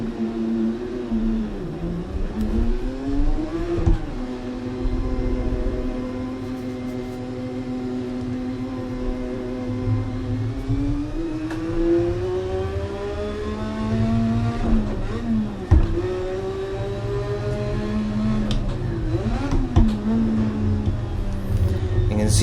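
Race car engine in Assetto Corsa, a sim racing game, running with and without turbo boost, its revs rising and dropping in repeated sweeping pitch climbs as the car accelerates and shifts, loud and close throughout.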